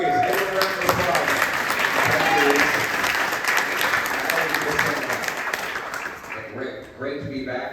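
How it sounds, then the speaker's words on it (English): Audience applause at a political regional meeting in New Westminster, BC, a steady dense clapping crowd that holds loud and close for about seven seconds, then thins toward the end. "Good to see you, Reese. Give him a round of applause."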